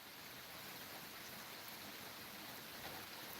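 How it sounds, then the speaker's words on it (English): Warm rain falling steadily, a dense even hiss of drops with no breaks, fairly faint and continuous, with no voices over it. "It's a beautiful warm rain."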